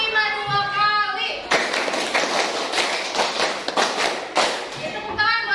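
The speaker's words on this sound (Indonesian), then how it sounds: "Sekarang coba tepuk 5 dua kali" Students in a classroom clap together in a series of quick, loud, rhythmic claps that run for several seconds, with a speaking voice just before and after.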